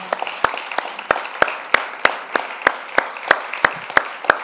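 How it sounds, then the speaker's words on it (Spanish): A church congregation claps in a steady, evenly spaced rhythm, with sharp distinct claps about three per second over a faint background of voices. "¿Cuántos pueden darle un aplauso a aquel que no nos abandona?"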